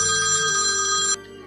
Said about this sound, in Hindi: तभी फोन आता है।